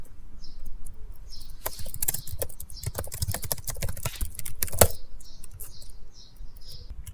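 Close, crisp computer keyboard typing in quick irregular bursts of clicks while a sentence is written in the nano text editor, with a faint chirping bird in the background.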